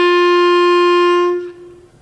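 A beginner's clarinet sounds one loud, steady, reedy note held for over a second before it cuts off, close and alone.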